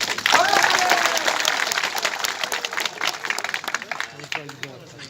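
Audience clapping breaks out at an outdoor road safety week event with traditional stick-fighting and a prize distribution, dense and steady at first, then thinning over five seconds while people talk over it.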